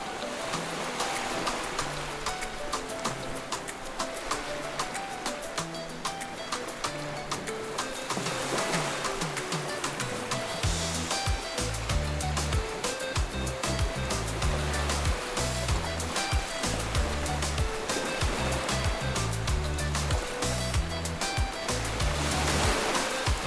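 Steady rushing water pours over agate stones being rinsed, a continuous close splashing wash with a heavier, rougher gurgle in the second half.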